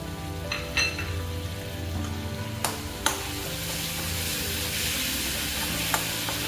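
Ground shallots frying with turmeric in a pan for a chicken thoran, a steady close sizzle with a few sharp clinks of a utensil against the pan.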